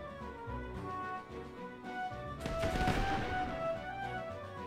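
Ship cannon fire in Sid Meier's Pirates, a dense burst of booming shots starting midway and layered over a steady game music bed, fairly loud and continuous to the end.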